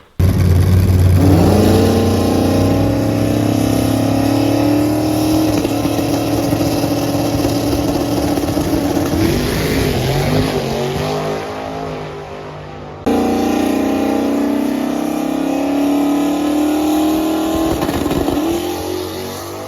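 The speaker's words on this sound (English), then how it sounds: "I'll let you guys hear how the motor sounds." Turbocharged car engine, running about 7 psi of boost, revs hard and climbs through the RPM range, then drops back and pulls again in a second loud, sustained run with a steady whine over the rumble. No talking.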